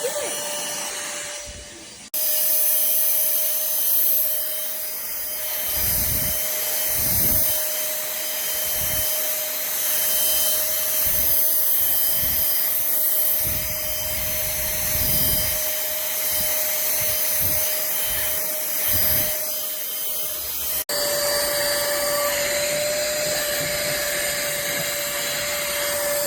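A Pemacom cordless portable handheld vacuum cleaner rated at 10KPa runs with a steady high-pitched motor whine across the whole stretch. Brief thumps and some background voices come through underneath it.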